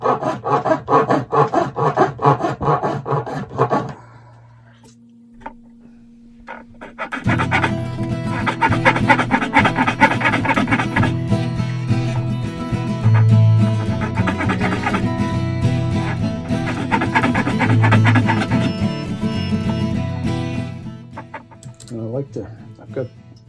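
Nut files rasping string slots into the nut of an old Guild 12-string blues guitar, steady rhythmic scraping strokes close up, with a brief pause partway through.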